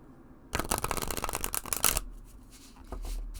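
Oracle cards riffled in a quick riffle shuffle, a dense burst of rapid flapping clicks lasting over a second, followed by softer handling noises.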